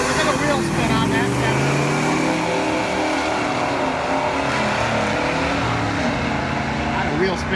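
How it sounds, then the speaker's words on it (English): Drag racing cars spin their wheels at launch and roar down the track, a loud continuous engine drone with rising revs, while a commentator talks over it. "Got a wheel spin out of both cars"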